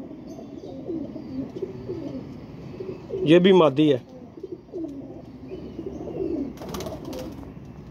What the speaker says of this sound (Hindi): आपको कबूतर दिखाने लगा हूँ मैं